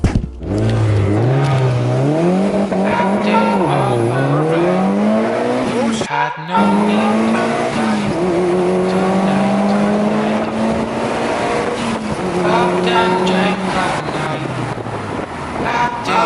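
An Evo launches hard from close by. The engine revs loudly and climbs through several gear changes, with a brief break in the sound and wind buffeting throughout.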